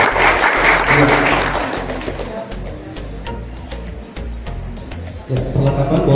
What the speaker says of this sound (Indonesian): Tepuk tangan sekali lagi untuk kedua calon.